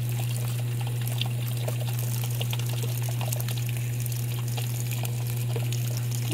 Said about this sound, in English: so it's filling this thing up with warm water.